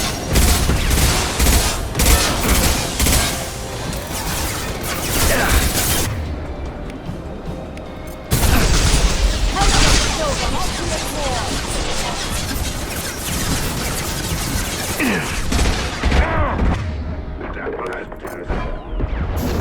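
Mass Effect combat with dense, continuous gunfire: rapid bursts of shots, impacts and mechanical clatter that stay loud throughout, with a short lull midway before the fire resumes.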